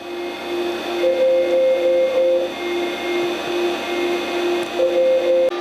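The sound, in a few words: dynamotor generator whirring in AN/GRC-9 radio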